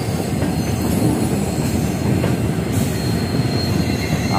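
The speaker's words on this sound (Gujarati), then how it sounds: "સ્ટેશન ની અંદર પણ સ્પીડ એની પકડી ચાલે છે આપણી ટ્રેન." A passenger train on the Rajkot–Haridwar route gathers speed as it pulls out through Ghaziabad station, making a loud, close, continuous rumble of rolling carriages with faint wheel squeal and rail clatter throughout.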